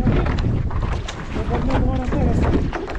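Wind gusts buffet the microphone on a beach during windsurfing, a loud rumbling blustery roar that swells and eases, with voices and water sounds underneath.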